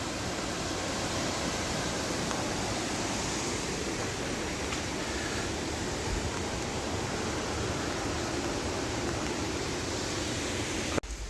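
Mountain valley stream at Hongyudong on Gayasan flowing in a steady, full rush of water, loud and continuous with no talk over it.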